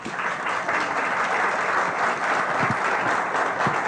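Steady applause fills an auditorium at a UNAM event, welcoming a speaker who is a member of an engineering advisory council; dense, even clapping from a sizable audience holds throughout.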